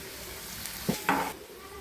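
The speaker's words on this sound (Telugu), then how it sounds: "ఆనియన్ని కొద్దిగా దూరగా వేయించుకోవాలి." Onions frying in oil in a pan with a little turmeric, a constant hiss of sizzling with a couple of brief stirring scrapes midway.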